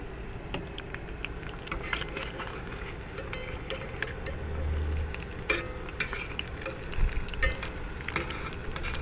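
Eggs frying in a small Lodge cast iron pan on a truck tailgate outdoors, a steady close sizzle with soft crackles and a few sharper pops, no talking.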